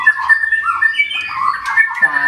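A white-rumped shama (murai batu) calls loudly and close, pouring out rapid whistled phrases, chirps and squawks in a continuous varied song.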